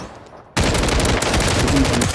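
Light machine gun fire in a first-person shooter video game, a loud rapid burst that starts abruptly after a quiet moment and keeps up a dense, steady stream of shots until the end.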